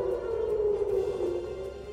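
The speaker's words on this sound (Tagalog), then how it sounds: "Biglang umalingaw-ngaw ang tunog ng sirena, palatandaan na may putukan na naman ng baril." A warning siren sounds across Jerusalem during wartime gunfire, a steady sustained wail heard from a distance, fairly faint and continuous with no voices over it.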